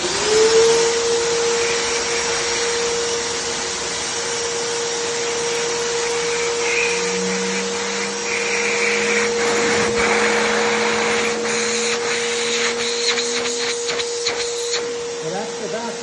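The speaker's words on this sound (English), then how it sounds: "And then the vacuum." A Debris Free Rhino XT vacuum runs with a steady, loud motorized whine and hum, the pitch holding firm while a brush whirs and clatters briefly toward the end.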